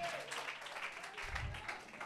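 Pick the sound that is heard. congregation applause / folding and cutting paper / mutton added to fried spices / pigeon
congregation applause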